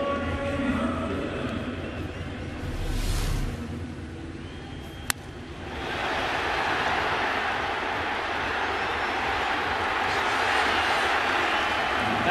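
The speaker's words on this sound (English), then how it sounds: "that's the roar of the crowd on a play like that." A broad roar rises from a baseball stadium crowd after a play, swelling and holding steady as a dense wash of far-off cheering with no voice close by.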